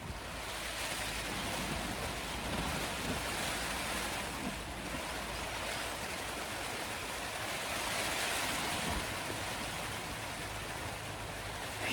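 Steady rain drums on a camping tent, a dense, even hiss with no gaps and no voices across the whole stretch.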